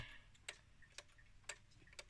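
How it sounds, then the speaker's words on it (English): An old pendulum clock with a Hermle movement ticks steadily about twice a second, crisp close clicks over a quiet room hum, no voices. "pretty sure that's the original pendulum. You can hear it ticking."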